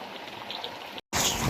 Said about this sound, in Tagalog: lalo pa lumakas ang ulan